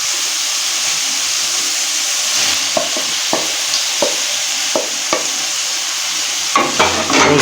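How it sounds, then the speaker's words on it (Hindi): Pre-fried eggplant pieces are added to hot masala in a pan, giving a loud, continuous sizzle punctuated by several sharp scraping stirs of a spoon, with no voices. "अभी हम इसमें बैंगन ऐड करेंगे जो हमने फ्राई करके रखे हुए थे"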